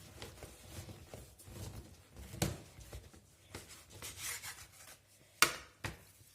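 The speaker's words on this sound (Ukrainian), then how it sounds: "Перші коржі я маю порізати на кусочки, на кубічки, на квадратики. І я зараз їх буду різати." A knife cuts freshly baked cake layers into small cubes, heard as soft, irregular scraping and tapping strokes against the board, with a couple of sharper clicks and pauses between cuts, close and fairly quiet.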